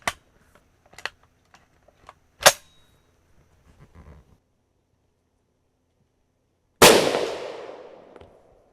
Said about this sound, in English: So we'll shoot these one at a time from here on out.